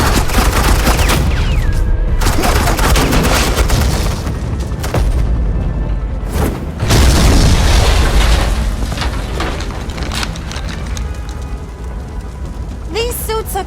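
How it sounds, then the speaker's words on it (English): Heavy suppressing gunfire and booming blasts in Batman: The Enemy Within, dense loud bursts of shots and explosions rolling almost without pause, with a brief spoken line near the end. "I said suppressing fire!"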